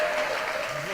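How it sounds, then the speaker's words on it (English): Brief burst of audience clapping in a live public meeting about university student fees, dense and fairly close, lasting about a second. "he deserves a clap"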